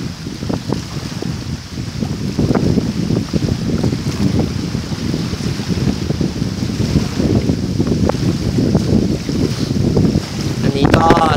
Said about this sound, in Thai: ถ้าลมอย่างเงี้ย สู้ไม่ไหวนะครับกลางคืน